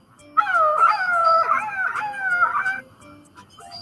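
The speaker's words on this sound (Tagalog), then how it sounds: "Umikot-ikot. Umungot-ungot na parang nagmamakaawa." A puppy whines and howls in a long pleading cry with wavering pitch and several breaks, close and clear against a quiet background, then stops abruptly with faint trailing sounds.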